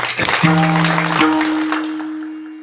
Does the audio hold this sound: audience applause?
yes